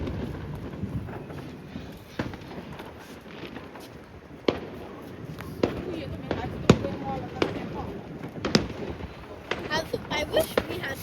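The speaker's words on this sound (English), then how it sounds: "I wish we had fireworks like that" Fireworks going off at a display, heard as a scattering of sharp pops and bangs at irregular intervals, some closer and louder, over a steady background murmur with people talking nearby.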